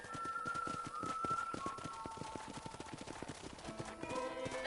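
Horse hooves clip-clop in the video game Red Dead Redemption, a steady rapid rhythm of hoofbeats close by, with music tones running over them.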